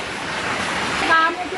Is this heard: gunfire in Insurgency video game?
no